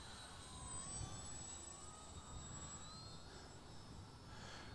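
An RC model F4U aircraft flies overhead, its electric motor a faint, steady distant whine that slowly shifts in pitch, with no voices.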